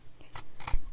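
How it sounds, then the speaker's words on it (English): Scissors snip through the crooked edge of a sheet of paper near a book, giving a few quick, close, crisp cuts in a second. "just trim it off with a pair of scissors"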